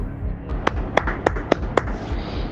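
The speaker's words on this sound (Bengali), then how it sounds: "জয়ন্ত হাততালি দিয়ে বলে উঠল" Jayanta claps his hands in a Bengali audio drama of a Hemendra Kumar Ray detective story: five sharp, evenly spaced claps, close and moderately loud, over a faint background bed.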